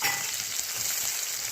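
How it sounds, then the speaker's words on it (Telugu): Chopped onions sizzle and fry in hot oil for a banana fry dish, a close, continuous crackling hiss. "తరిగిన ఉల్లిపాయలు వేసేసుకోవాలండి"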